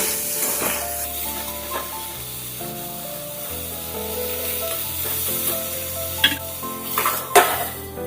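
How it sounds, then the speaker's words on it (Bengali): Salted eggplant pieces, with nigella seeds, fry in a covered pan, giving a steady sizzle and hiss with a few sharp clinks of utensil or lid near the end. No one speaks. "আমার এই কেটে রাখা বেগুনগুলো এবং অল্প করে নুন এবার আমি এগুলোকে একটু ঢাকা দিয়ে দিয়ে ভেজে নেব"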